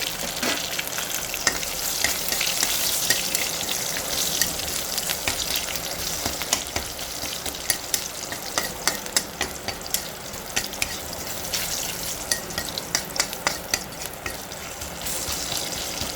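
Tempering of spices with crushed garlic frying in a pan for a mixed vegetable curry: steady sizzling crackle with frequent sharp stirring clicks and scrapes, close and continuous.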